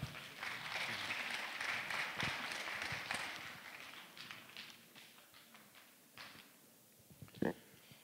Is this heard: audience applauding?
yes